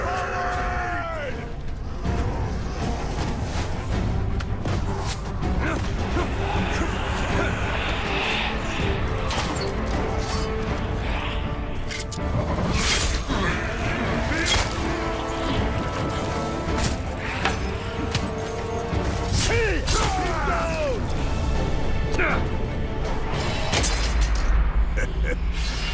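Battle in the video game Shadow of War as a gate is smashed, a dense wash of booming impacts, crashes and clattering debris with voices shouting over the din.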